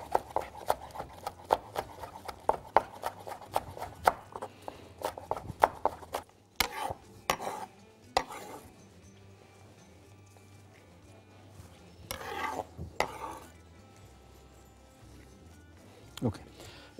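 Green onions chopped on a board with a knife, a quick run of crisp, evenly spaced close taps that slows and then gives way to scattered handling clatter and a few louder bumps.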